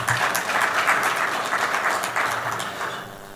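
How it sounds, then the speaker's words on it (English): A crowd at a Rwanda Stock Exchange listing ceremony applauds, loud dense clapping that holds steady and then tapers off near the end, with no voices over it. "A round of applause, please."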